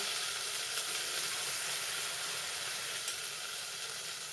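Sauce poured into a pan of frying onions, giving a continuous bright, even sizzle with a faint hiss, close and steady with no pauses.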